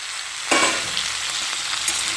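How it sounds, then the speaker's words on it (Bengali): Drumstick stalks and potatoes frying in a pan give a steady sizzle, with a sharp burst of hiss as they are stirred around, then a continuous crackling fry with a light scrape near the end; no talking. "কেটে রাখা ডাটাটা দিয়ে খুব ভালো করে একটু ঢাকা দিয়ে খুব ভালো করে একটু নাড়িয়ে চাড়িয়ে ভেজে নিই"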